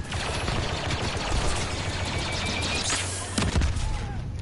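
Dense gunfire crackles in Star Wars Battlefront II, with rapid overlapping blaster shots running throughout and a louder burst near the end, with no talking.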